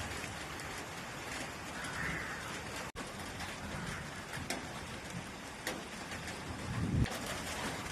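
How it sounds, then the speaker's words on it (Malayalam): Light drizzle falling outdoors during a mild thunderstorm, a soft continuous hiss of rain with occasional faint taps, steady and even throughout with no talk. "പുറത്താണെങ്കിൽ നല്ല ചാറ്റൽ മഴയുണ്ട് കേട്ടോ."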